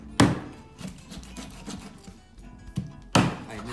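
Whole chicken being cut into pieces on a board, with a heavy blade thunk near the start and another near the end, separated by softer scraping and tapping between cuts, close and without talk.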